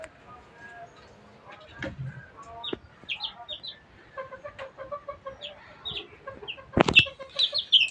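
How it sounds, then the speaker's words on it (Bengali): Tiger chickens cluck and chirp in short bursts close by, scattered high calls coming in clusters that grow livelier toward the end, with a few knocks and shuffles in between. "আমার এইগুলো মুরগিও ভালোই বড় হয়েছে।"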